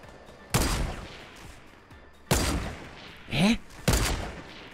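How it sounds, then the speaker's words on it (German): Loud Fortnite Battle Royale gunfire cracks out in three heavy bursts with pauses between, and a brief voice sounds between the second and third. "Wow, ich werde auf jeden Fall beschossen."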